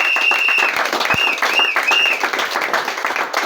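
A church congregation applauds in a dense, steady wash of clapping, with a few high whistles cutting through near the start.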